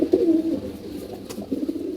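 Pigeons set up as a breeding pair, one of them a twelve-year-old hen, coo in low, throaty rolling phrases close by. The cooing comes in two bursts with a short lull between them, and there is no talk.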